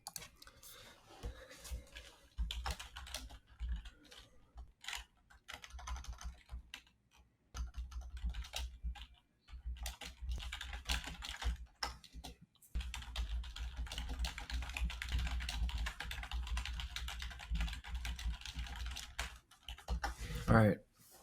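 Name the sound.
typing a prompt on a computer keyboard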